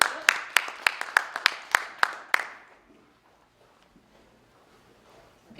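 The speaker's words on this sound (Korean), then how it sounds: "박수를 받아주십시오" A small forum audience welcoming a speaker with sparse, evenly spaced claps, about ten sharp distinct hits that stop after a couple of seconds, leaving a quiet room.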